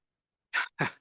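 A person sneezes during a conversation about repair and reuse groups, heard as two quick, close bursts, a sharp intake then a breathy expulsion, with no talk over it.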